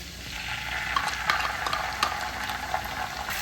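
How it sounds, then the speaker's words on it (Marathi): Saoji egg curry masala with kasuri methi is sautéed in a pan, making a continuous close frying hiss with quick scraping stirs of a spoon across the pan. "हे सर्व साईडचे आपण परतवून घेऊया"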